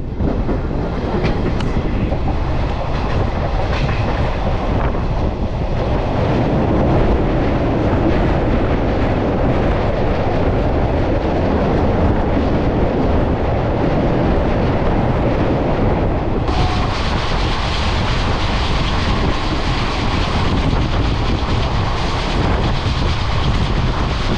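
A passenger train on the Sealdah to Azimganj line runs steadily, giving a loud continuous rumble with rattling wheel clatter and wind buffeting. No one speaks.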